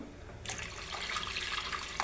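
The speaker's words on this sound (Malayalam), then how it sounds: "നമുക്ക് എത്ര കറി വേണോ അത്രയ്ക്കുള്ള വെള്ളം ഒഴിക്കണം" Water splashes from a tap-like pour into a pot of fish curry, starting abruptly after a quiet moment and running steadily and close up to the end.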